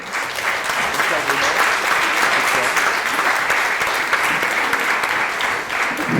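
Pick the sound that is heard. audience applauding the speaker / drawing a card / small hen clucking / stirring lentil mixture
audience applauding the speaker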